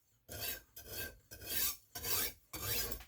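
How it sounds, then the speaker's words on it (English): Five rhythmic rasping push strokes of a knife blade across a sharpening stone to remove the burr, each a loud, close, gritty scrape separated by short pauses. "I'll do a few of those push strokes, and once it smooths out, you know that burr's gone."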